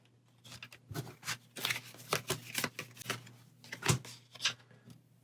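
Cards from a Pathfinder Adventure Card Game deck being shuffled close by, a run of quick riffling bursts and soft slaps at uneven intervals, quiet and with no talk over it.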